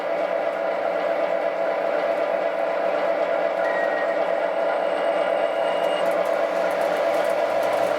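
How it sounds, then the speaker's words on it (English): Three MTH Protosound-3 model train locomotives running together on one loop, a steady mechanical hum and whirr with a faint high tone, moderately loud and continuous. "These are all 3 MTH Protosound-3 Locos, which can run on DCC as well as proprietary DCS."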